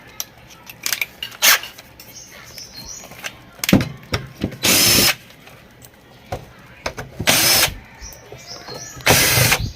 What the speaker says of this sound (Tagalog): Lahat ng mga screw dyan sa itaas ay tatanggalin natin yan.